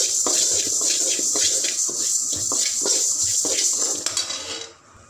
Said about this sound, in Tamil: 50 கிராம் பாசிப்பருப்பு வறுத்துக்கலாம். சிறுபருப்பு இதை நல்லா வறுத்துக்கலாம்.